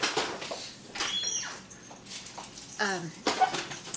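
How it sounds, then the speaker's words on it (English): Small pet dogs whimper and whine indoors in a few thin, rising and falling cries that come and go over a few seconds, moderately close and fairly soft. "Got my little doggies that have to come in and out still too."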